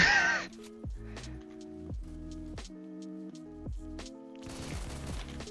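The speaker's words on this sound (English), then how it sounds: "I just killed 3 people with a pistol" Pistol shots in the video game Phantom Forces, a string of about eight sharp cracks fired in quick irregular succession, each followed by a falling echo, loud and alone with no talking.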